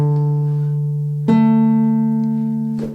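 A perfect-fifth interval played as the opening of a film theme: a sustained lower electronic tone jumps up to a higher held tone, clean and loud, then a brief onset at the end.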